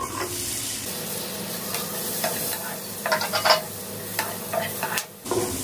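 Sliced capsicum and onion fry in a little butter in a pan (kadai), giving a steady close sizzle broken by scraping stirs and bursts of louder spatula clatter, with no voices.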